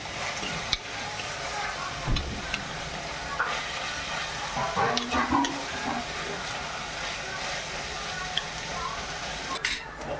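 Onions frying in a pan with occasional stirring: a continuous bright sizzle and hiss of hot oil, broken by scraping and clinking from the spoon as it moves the onions, steady and close.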